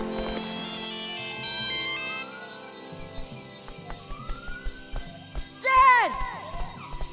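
A satellite phone rings with a jingle in a Lego animated scene, bright melodic tones and warbling electronic notes rising over background music and effects, with a louder burst near the end.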